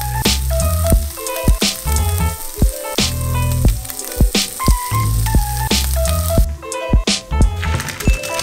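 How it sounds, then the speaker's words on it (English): Chicken meatballs browning in a hot pan give a loud, steady sizzle with frequent sharp pops and spatters, close by and with no talking. "we are done browning our meatballs"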